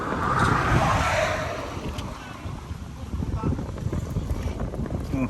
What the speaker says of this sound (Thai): วันนี้ลมแรงนะครับ